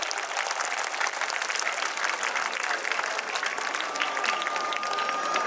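A dense, steady burst of audience clapping at a school award ceremony, OALPS Wandoor's Mamankam 24, holds at an even level throughout without a break.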